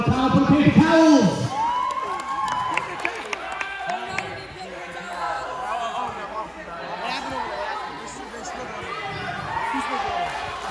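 A lively crowd at an eighth-grade school game cheers and whoops, with excited chatter and shouting throughout and a loud burst at the start; clapping is not clearly distinct.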